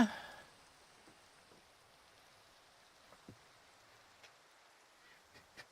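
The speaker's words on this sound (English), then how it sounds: "And it's raining." Rain falling in a Minecraft game world, a faint, steady hiss with a few soft, scattered drip-like ticks, heard alone without talk.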